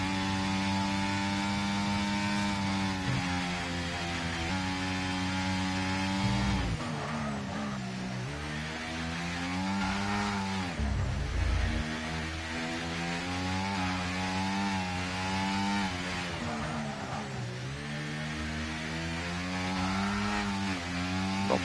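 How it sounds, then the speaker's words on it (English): A Formula 1 racing car in a racing game screams through continuous high-revving engine notes, pitch dropping sharply under braking and climbing again on acceleration several times, loud and steady with no talk over it. "Not sure if the sound of the braking and accelerating is quite correct here"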